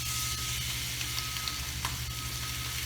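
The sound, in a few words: steak searing and sizzling in a pan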